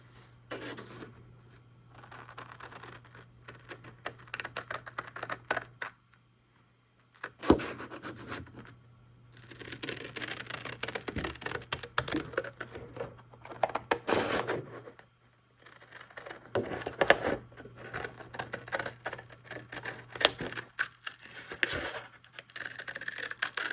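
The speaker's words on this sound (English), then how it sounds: "I finished cutting out my scrunchies label" Scissors cut along a dotted line on a white cardstock label, giving soft, intermittent snips and paper scrapes in short bursts separated by pauses. The sound is close but quiet and no one speaks.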